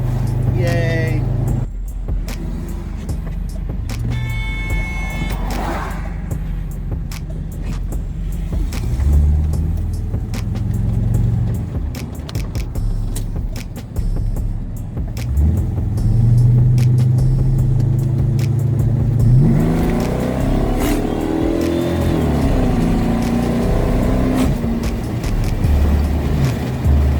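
A 1985 C4 Corvette with new brake calipers, pads and rotors cruises along, its engine giving a steady low rumble throughout, with occasional talk inside the car over it.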